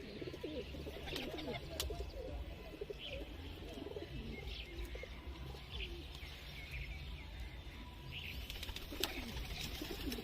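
Pigeons coo again and again in a loft in R.S. Pura, Jammu. Soft chirps and an occasional flutter of wings sit under the fairly quiet, steady throaty calls.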